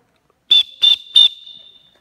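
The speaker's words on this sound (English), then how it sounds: "Three whistles means stop," Three short, shrill whistle blasts from a PE teacher's whistle in a school gym, evenly spaced and loud against a quiet room, the last one trailing off slightly.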